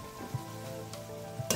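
Tomato paste poured into a sizzling pan while cooking a dry chicken dish, giving a steady close frying hiss with a few soft stirring knocks and no talking.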